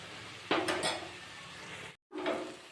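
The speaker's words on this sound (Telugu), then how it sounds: "బాగా వేపుకోవాలి మెంతికూర" Fenugreek leaves fry and are stirred in a pan, sharp scrapes and clatters of the spoon over a low sizzle, with a brief break of silence before the stirring resumes.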